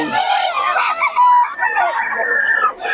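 A rooster crows loudly and close among chickens brought for sale, its strained calls mixing with people talking.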